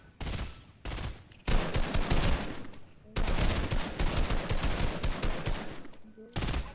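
Sniper rifle fire in a video game, a handful of loud sharp shots separated by short gaps, each with a long crackling tail, with no talk over them.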